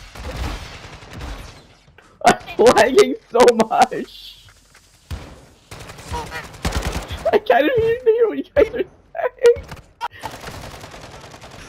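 Bursts of rapid gunfire in an online video game break out in two clusters under frantic, overlapping voices of players talking.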